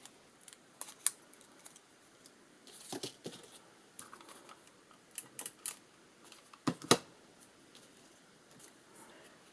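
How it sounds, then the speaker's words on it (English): Scissors snip a center circle out of a black paper die cut, giving quiet, close, irregular cuts and crinkles with short pauses between bursts. "from the black die cut, I'm just going to go ahead and cut out the center circle"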